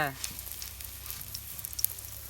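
Steady hissing crackle of cabbage and rice-flour onion fritter batter frying in hot oil in a wok, with small pops scattered throughout and a low hum underneath.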